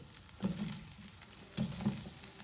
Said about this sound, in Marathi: कट करून झाल्यावर पनीर आपल्याला हलकंसं असं पॅनमध्ये फ्राय करून घ्यायचं आहे